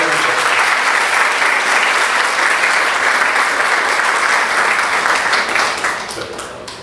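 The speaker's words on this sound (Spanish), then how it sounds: "Un aplauso para nosotros." A crowd applauds loudly and steadily at a Vincentian conference opening celebration, a dense wash of clapping that fades out toward the end.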